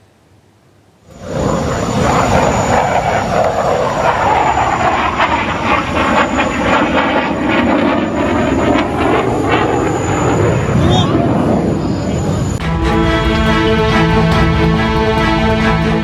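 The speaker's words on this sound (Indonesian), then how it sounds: "Kecelakaan ini terjadi saat pesawat sedang beratraksi di gelaran Dubai Air Show di Dubai, Uni Emirat Arab." A jet aircraft roars loud and continuous after a quiet start, an Indian Air Force Tejas fighter performing at the Dubai Air Show, with the tone sweeping and shifting before a steadier droning stretch near the end.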